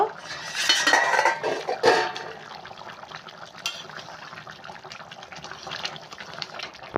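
Pot lid lifted off a simmering river sarpunti fish curry, a loud metallic clatter of lid and pan near the start with a second knock around two seconds, then softer kitchen clinks and faint bubbling.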